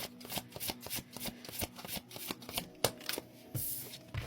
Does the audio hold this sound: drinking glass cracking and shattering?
no